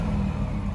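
Supercharged car fitted with a Roto-fab Big Gulp intake, exhaust valve closed, gives a brief steady engine rumble with a faint high whine riding above it, close and constant.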